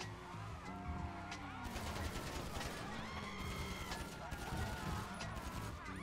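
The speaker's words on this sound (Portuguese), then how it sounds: "Tá atirando em mim, velho." Rapid bursts of police gunfire in GTA V during a getaway, dense overlapping shots cracking repeatedly across the whole stretch amid loud game chaos, with a player talking excitedly over it.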